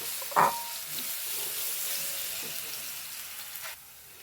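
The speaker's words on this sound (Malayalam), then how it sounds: "ഇതിലേക്ക് പഴം ഇട്ട് കൊടുക്കണ്ടേ അതൊന്ന് വാട്ടി കൊടുക്കാം" Banana pieces sizzle and fry in a hot pan, a steady close crackle with a sharp burst at the start as they drop in and a few light stirring scrapes, with no talking.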